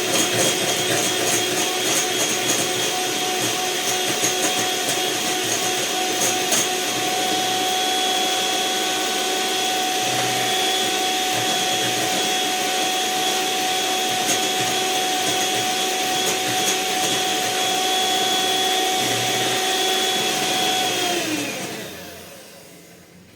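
An electric mixer whirs steadily and loudly while beating eggs into carrot chocolate vanilla cake batter, a constant motor drone with a high whine that runs unbroken for about twenty seconds before shutting off.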